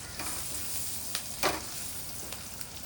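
Onions fry and get stirred in a pan for fried noodles, a soft continuous sizzle broken by a few brief scraping strokes of a utensil, with no talking.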